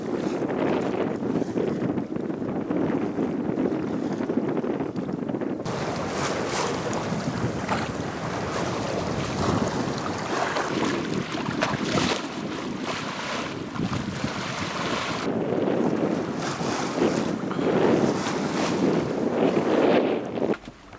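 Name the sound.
wind on sailboat under sail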